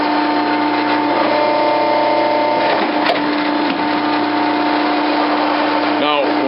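A Z!nnovation Phoenix die cutter rated around 50 tons runs at fast speed, giving a steady, loud mechanical drone with sustained humming tones and an unbroken whir throughout.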